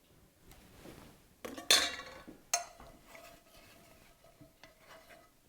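A spatula scrapes lasagna sauce out of a pan, with scattered clinks and two sharper metallic knocks among softer stirring scrapes, nearby and without talk.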